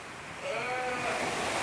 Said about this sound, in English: We've literally thrown sheep and lambs everywhere.